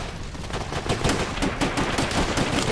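Machine gun fire in the Call of Duty: World at War video game, a loud, sustained stream of rapid shots with overlapping bursts and echoes filling the whole moment, without speech.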